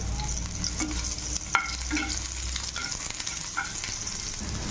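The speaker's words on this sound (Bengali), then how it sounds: "দেখো পেঁয়াজটা ভাজা ভাজা হয়ে এসছে" Chopped onion, bay leaf and dried red chili frying together in hot oil, a steady close sizzle with occasional scraping stirs and a few sharp clinks of a utensil against the pan.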